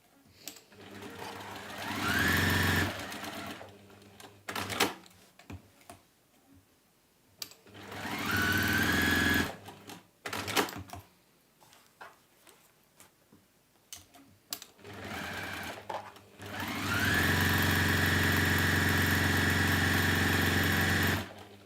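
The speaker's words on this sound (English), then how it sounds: "we're going to sew down both sides" A sewing machine stitches down both sides of a fabric pouch in several loud, close bursts of rapid whirring, separated by quiet pauses with faint handling sounds, the final run the longest.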